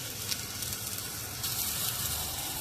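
Oil sizzles around an onion dosa on a hot pan, a soft, continuous crackling hiss heard fairly quietly and alone.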